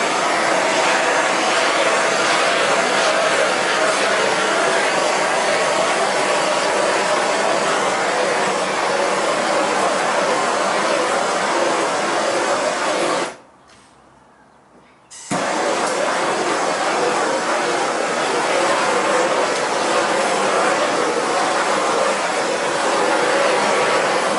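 A heat gun blows hot air over poured epoxy resin, a loud steady whooshing roar that cuts out for about two seconds midway and then resumes, no talk.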